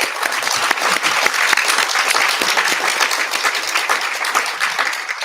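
An audience at a trade congress on gender gives a panel a full round of applause, dense and steady from a sizable crowd for the whole stretch, with no speech over it.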